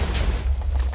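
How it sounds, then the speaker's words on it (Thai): A deep, rumbling boom from a lucky block exploding in a video game, heavy low-end blast that rolls on for about a second with no talk over it. "ผมว่าแคมป์จะเละเพราะระเบิดได้แหละฮะ"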